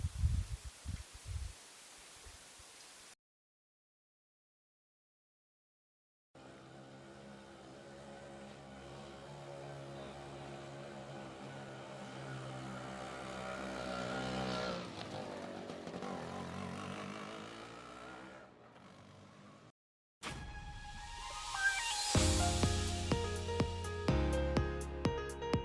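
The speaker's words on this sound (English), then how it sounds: "give it a few revs, and we're going to get strimming" A Hyundai 52cc petrol grass trimmer runs at a steady buzzing pitch while cutting garden grass, broken by short gaps of silence, then returns with sharper bursts of cutting toward the end.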